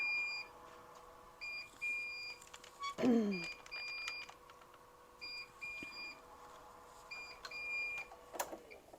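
An SWF MAS-12 embroidery machine sounding its error 400 alarm, repeated electronic beeps in short patterned bursts over a faint mechanical hum, with a brief sliding whine near the start.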